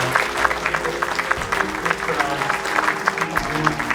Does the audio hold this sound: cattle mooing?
no